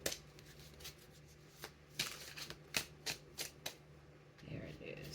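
Cards from a deck are shuffled and drawn in a quiet room, a few crisp riffling and snapping bursts close by, with soft speech at the end.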